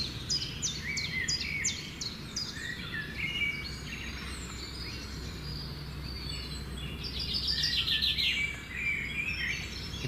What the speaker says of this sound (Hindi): कितनी अच्छी आवाज़ें आ रही हैं पक्षियों की